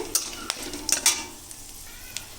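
Whole cardamom, cloves and cinnamon crackle faintly in hot oil as they are stirred, with a few sharp clicks of a spoon against the pan over a low, steady sizzle.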